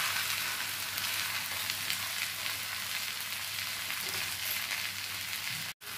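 Sabudana khichdi with finely chopped coriander leaves being stirred in a pan, a steady broadband sizzle of frying running throughout with faint scraping under it, fairly loud and close, no talking.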